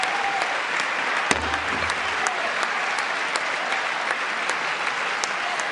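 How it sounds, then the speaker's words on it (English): A crowd in the House chamber cheering and applauding, a dense, continuous wash of clapping and shouts that holds steady throughout with a few louder whoops standing out. "They're all cheering his removal."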